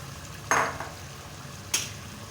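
Black split urad dal frying with meat in a pot, a low sizzle broken by two brief sharp stirring scrapes, close, with no talk.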